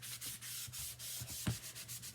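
A dry board eraser scrubs chalk residue off a chalkboard in quick, soft back-and-forth rubbing strokes, close and fairly quiet, with one firmer swipe near the end.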